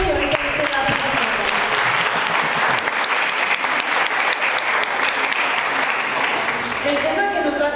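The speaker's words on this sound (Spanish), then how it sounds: "damos un fuerte aplauso" Sustained audience applause at a Catholic charismatic renewal conference talk in Guadalajara, loud and dense throughout, with a voice briefly audible over the clapping near the end.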